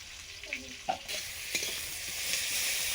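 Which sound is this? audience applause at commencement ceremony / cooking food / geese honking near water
cooking food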